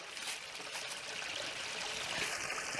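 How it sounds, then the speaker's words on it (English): A twin waterfall, with a creek falling in from the other side into the same pool, gives a steady bright rushing and splashing roar that stays constant and unbroken, heard alone without voices. "Then Preacher's Falls comes in from the other side. It's a twin falls. As Preacher Creek flows in and enters the same pool."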